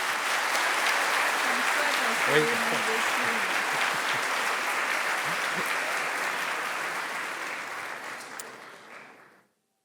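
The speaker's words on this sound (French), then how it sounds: "je vous demande de l'applaudir également" Audience applause at a graduation ceremony, broad and steady from the start, holding strong before fading out near the end, with a brief spoken word and some voices under the clapping.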